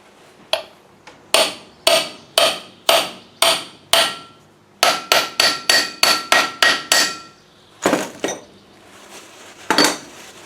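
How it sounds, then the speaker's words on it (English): Repeated sharp metallic hammer strikes ring out close by as a seal is hammered into place on a Land Rover 110, some spaced apart and some in quick bursts, each blow clanging briefly before the next. "find a hammer which is conveniently here"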